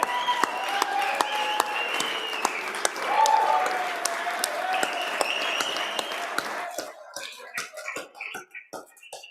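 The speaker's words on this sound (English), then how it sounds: "We will clap until they come out." Lawmakers applaud in the House chamber during a floor session, a sustained wash of clapping with cheering and voices mixed in, thinning to scattered individual claps near the end.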